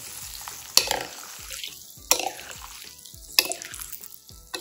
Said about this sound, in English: I'm going to mix everything together.